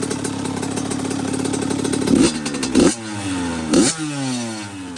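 A loud, close Yamaha YZ85 two-stroke dirt bike engine with VForce4R reeds and FMF pipe idles with a rattly buzz, then revs sharply three times, each blip dropping back to idle.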